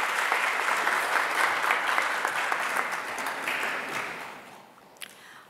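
A high school presentation day audience gives a round of applause, loud sustained clapping from a crowded hall that gradually fades toward the end with a few final claps.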